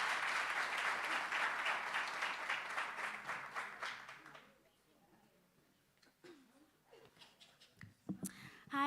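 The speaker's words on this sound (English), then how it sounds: "Please give her a round of applause." Audience at a community dialogue gives a moderate round of applause for about four seconds, then it fades into a quiet room with scattered small noises and faint voices.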